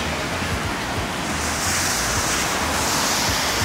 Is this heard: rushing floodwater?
yes